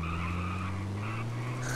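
A car drifting with a steady engine drone and sustained tire skid in GTA San Andreas multiplayer with mods, loud and continuous throughout with no talking.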